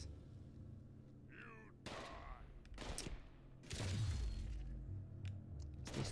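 Scattered sharp gunshots and bursts of fire in the video game Fallout 76, several cracks spread across the moment with quieter game ambience and a faint murmur between them.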